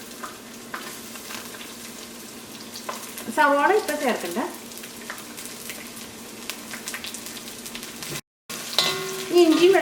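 Chopped ginger and garlic sizzle and fry in oil in a pan, a steady crackle with stirring scrapes in the middle, a brief cut near the end, then louder sizzling as a person speaks briefly.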